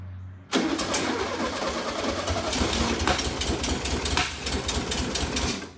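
A 1973 VW Sports Bug engine catches after a brief quiet moment and settles into a loud, steady, chattering run close by, with rhythmic mechanical clatter throughout.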